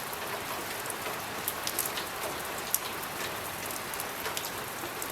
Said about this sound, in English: it's cold and wet and raining.